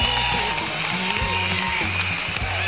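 Applause and clapping from a studio audience on a cooking show making banana crêpe, a few seconds of scattered clapping mixed with background music and a voice.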